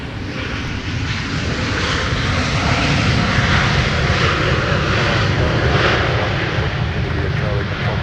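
Airliner taking off from runway 17 at Minneapolis–St. Paul airport, a loud, continuous engine roar that swells slightly and stays steady throughout, heard from a distance.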